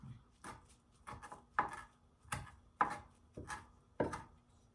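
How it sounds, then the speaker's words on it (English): A knife chops through kale on a board, about eight separate crisp strokes at an unhurried, slightly uneven pace, close and alone. "I'm just chopping up some kale."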